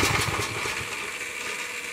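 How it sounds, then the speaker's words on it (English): A portable dual-fuel backup generator engine starts and runs loudly and steadily close by, a rough continuous drone with no talking. "Engine start. Listen"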